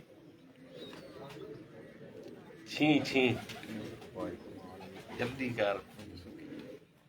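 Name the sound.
pigeons cooing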